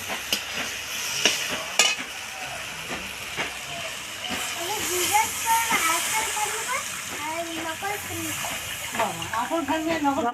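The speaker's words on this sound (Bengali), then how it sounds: "মশলা কষা হয়ে গেছে এবার আমি জল দিয়ে দেবো" Water hits the sizzling fried masala in a pan for a tengra fish curry, setting off a loud, steady steamy hiss and bubbling while a person talks over it.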